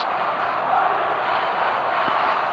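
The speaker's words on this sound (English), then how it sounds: "The stadium is full of noise and energy." Stadium crowd noise from the eFootball 2026 video game, a steady, loud wash of massed voices and roar that holds evenly for a couple of seconds.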